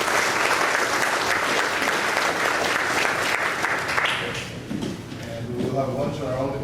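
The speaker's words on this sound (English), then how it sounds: "let's give our speakers a round of applause" A workshop audience claps for its speakers in dense, sustained applause that fills the room, then thins out after about four seconds as a voice starts to speak.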